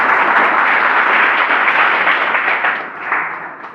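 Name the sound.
audience applause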